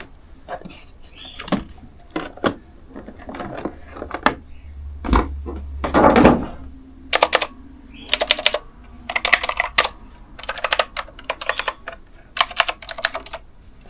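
Typing on a mechanical computer keyboard, heard up close: bursts of sharp clacking keystrokes in uneven rhythm, with one louder thump partway through and no voices.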